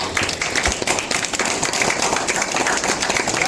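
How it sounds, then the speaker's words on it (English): Audience applause at a Florida law enforcement press event, a dense steady patter of clapping hands filling the room at an even level throughout, with a few sharper taps standing out. "Give a round of applause for our law enforcement"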